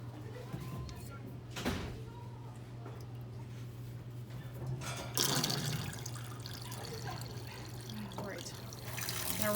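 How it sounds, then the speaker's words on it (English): Chlorhexidine solution drains out of a cleaning tub as a low, steady liquid trickle and gurgle, joined by a louder splashing rush partway through, with a constant hum underneath. "Now we're going to drain this chlorhexidine solution that we have in here."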